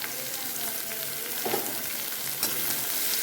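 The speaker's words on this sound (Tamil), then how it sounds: "பொடியாக வெட்டி வச்ச வெங்காயத்தை, பெரிய வெங்காயத்தை போட்டுடுறோம்." Chopped big onions and bitter gourd fry over medium heat in an iron pan, making a constant bright sizzle with soft stirring scrapes and small knocks, and nobody speaking.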